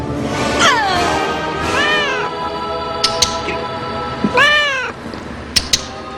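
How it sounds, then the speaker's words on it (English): A cat meows several times in a Disney Hocus Pocus movie scene, drawn-out rising and falling cries spaced across the stretch, with a few sharp clicks and swishes in between, close and fairly loud. "In the Disney movie Hocus Pocus, witches turn a boy into a cat."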